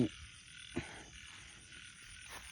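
Frogs croak at night during a frog hunt, a repeated low croaking pulse with a few sharper calls standing out, fairly close and steady against a quiet background.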